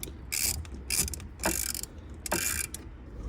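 A ratchet works close by on the battery terminal of a 2020 Toyota Supra, giving several short bursts of rapid clicking with brief pauses between them and a low background hum.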